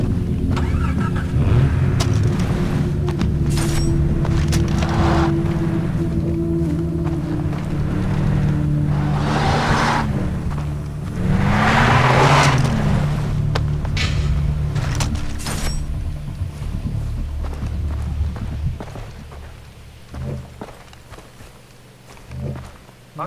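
Car engine in Far Cry 3, droning steadily throughout as the vehicle drives, with shifting pitch sweeps and rumbling mid-way, then easing off toward the end with a few scattered knocks.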